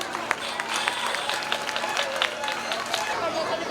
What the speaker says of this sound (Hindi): वेरी वेल डन किड्स, इनके लिए भी तालियां बजाइए प्लीज